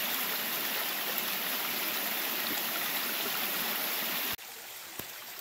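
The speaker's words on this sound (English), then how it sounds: "another little nice creek to walk over" A small creek flowing beside a hiking trail on a hot June day, its steady, close rushing wash filling the air for about four seconds before cutting off to quieter ambience with a faint click.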